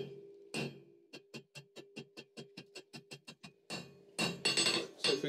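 Steel being hand-forged into a long taper for a shepherd's crook, with a hammer ringing on the anvil in a quick, even run of about a dozen sharp strikes, followed by louder, rougher clanging noise at the end.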